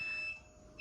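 An alarm beeps in a steady, thin, high electronic tone, quiet and continuous through the brief moment, with no voices over it.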